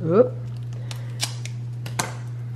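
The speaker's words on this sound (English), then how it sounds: "So I'm going to take my scissors" A few sharp, crisp scissor snips and clicks cutting open a cardboard box, spaced apart, close by, over a steady low hum, with a brief voice at the start.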